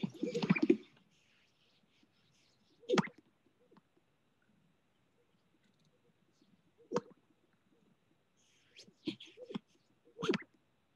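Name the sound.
birds calling in the wild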